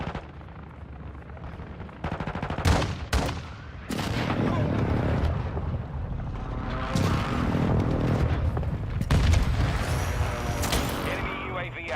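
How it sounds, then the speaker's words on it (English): Call of Duty: Modern Warfare II multiplayer match with an enemy precision airstrike: a loud, sustained barrage of explosions and gunfire rolling on for several seconds, with a voice speaking over the battle noise. "Enemy precision airstrike."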